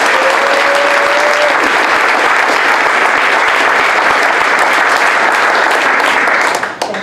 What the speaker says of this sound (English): please give a warm round of applause for Erica C.